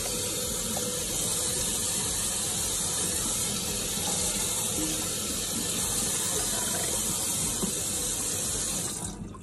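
Tap water pours steadily over a silicone doll during a quick rinse, a loud, continuous rushing splash that holds evenly throughout and cuts off abruptly at the very end.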